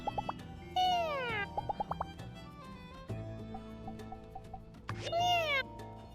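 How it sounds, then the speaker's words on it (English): A cat in the My Time at Sandrock video game gives two drawn-out, falling meows, one early and one near the end, with soft plinking game music and light clicks in the background. "befriending all kitties."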